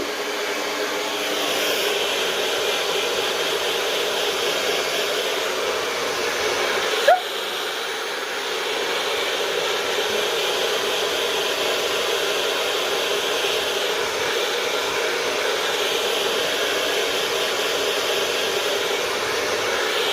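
A hair dryer blows steadily and close up while drying fine hair, a constant whooshing roar with one brief click partway through and no voices.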